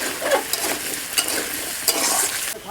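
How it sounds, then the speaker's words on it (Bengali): Chopped onion frying in a pan with lightly fried potatoes, a steady close sizzle broken by several sharp scraping stir strokes over about three seconds. "পেঁয়াজ কুচি দিয়ে দিচ্ছি"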